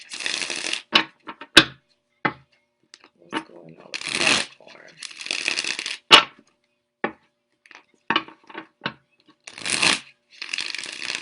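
Tarot cards are shuffled in repeated quick riffling bursts with sharp snaps between them, while a person speaks briefly.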